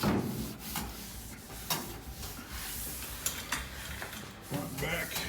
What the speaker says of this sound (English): wipe down the front